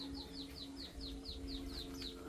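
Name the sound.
pet white-eye birds chirping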